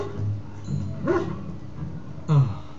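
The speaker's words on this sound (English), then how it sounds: "let's open the door, and there is... Dog." A dog in the video game Dragon Age barks and whimpers, with a few short yips and whines spaced across the moment, close and clear over a quiet background.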